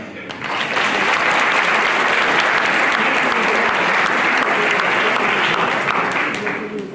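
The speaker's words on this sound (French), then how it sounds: "On peut applaudir Mathieu." A crowd at a mayor's New Year address in Vandoeuvre applauds steadily and loudly for several seconds, the clapping swelling quickly and then tapering off at the end.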